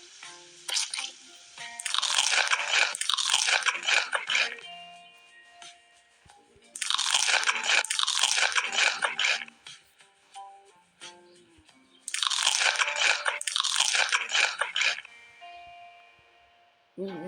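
Crunchy, cheesy snow chicken chewed close to the microphone in three bursts of loud, rapid crunching, each lasting about two to three seconds and separated by quiet gaps.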